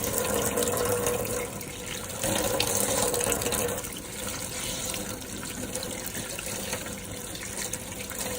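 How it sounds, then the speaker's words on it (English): Tap water runs steadily into a sink while a makeup brush is rinsed, a continuous hissing splash at moderate level with slight shifts in flow, and no talking. "Put a little bit more water on there."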